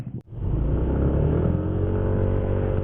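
A car engine revs up and accelerates, a loud steady roar with rising tone lasting the whole moment after a brief clunk at the start.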